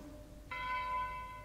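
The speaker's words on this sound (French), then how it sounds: "la cloche sonne vêpres." Church bell rings for vespers in a monastery setting: a single clear struck tone with lingering ringing overtones, faint and distant over quiet room hiss.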